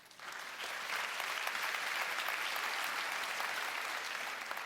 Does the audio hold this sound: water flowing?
no